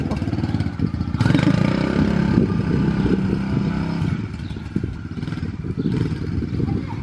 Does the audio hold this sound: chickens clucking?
no